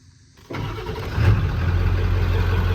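A Ford F-350 crew cab dually pickup with a 7.3L PowerStroke diesel cranks briefly and catches, then settles into a loud, steady, close diesel idle with a slight rise in revs as it fires.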